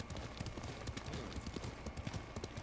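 Horse hooves clip-clop at a steady trot in the samurai video game Ghost of Tsushima, a continuous close rhythmic patter of hoofbeats filling the whole stretch.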